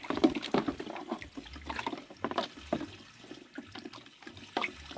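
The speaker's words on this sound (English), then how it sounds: "It's draining all the water." Water trickles and drains from a plastic toy water table with a gurgling, splashy flow, close by, with small knocks and clatters of plastic mixed in.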